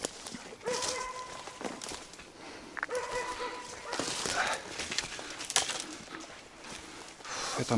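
A dog barks repeatedly at the water at moderate distance outdoors by a taiga river, in short bursts with gaps, along with a few faint background sounds.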